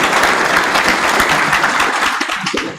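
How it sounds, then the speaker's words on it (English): Loud, dense audience applause for lab coat sponsors at a medical school white coat ceremony, sustained and then fading slightly at the end. "Kindly give them another round of applause."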